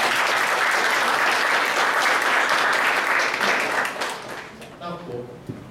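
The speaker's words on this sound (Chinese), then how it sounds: "用热烈的掌声来欢迎我们张乐金建筑师跟王明威建筑" Audience applause at an architecture lecture welcoming two architects: dense, loud, sustained clapping that fades toward the end as a voice begins speaking.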